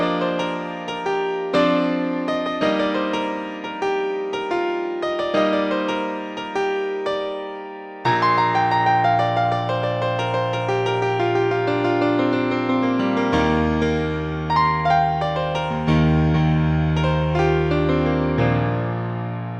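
Solo piano playing the guitar solo from a song, a bright repeating melodic line over a steady bouncing left-hand bass, loud and close with no voices.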